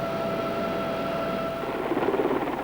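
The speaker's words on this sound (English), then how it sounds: "A modern flying machine, a Royal Navy Sea King from HMS Garnet, was the next visitor to Cairnsmore." A Royal Navy Sea King helicopter drones steadily at a remote moorland site, a continuous mid-distance rotor and turbine wash with a faint whine running through it and no voices.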